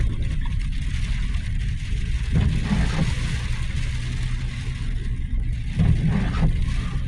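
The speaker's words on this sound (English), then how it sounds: "Got another vehicle coming." Another vehicle approaching on a rural road near a bridge, a low rumbling engine and tire noise that swells twice over steady background drone.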